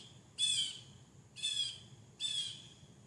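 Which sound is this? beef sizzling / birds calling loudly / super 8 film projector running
birds calling loudly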